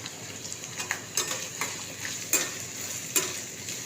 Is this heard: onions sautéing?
yes